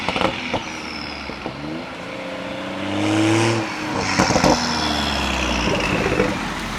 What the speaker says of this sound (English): Hey, there's a car coming.